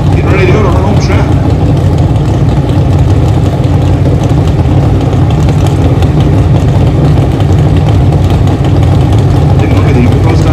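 A Pro Stock drag racing motorcycle engine rumbles loud and steady at the 2024 NHRA Northwest Nationals at Pacific Raceways, a constant heavy drone throughout with a commentator talking over it.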